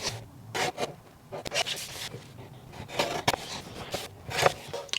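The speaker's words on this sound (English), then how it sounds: "So let's cut this one out now." Scissors or a blade cutting a printed sublimation transfer sheet for a Duozie cup, close irregular scraping and snipping strokes in short bursts, with rustling paper between cuts.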